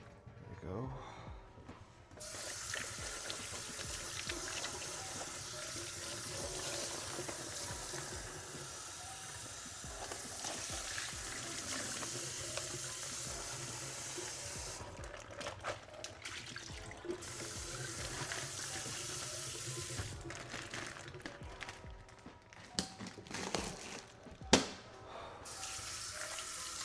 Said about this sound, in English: I need to wash my hands too.